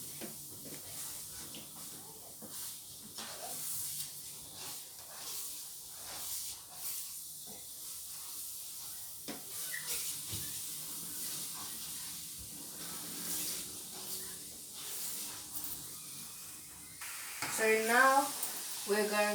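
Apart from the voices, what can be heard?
egg being scrambled and scraped in a frying pan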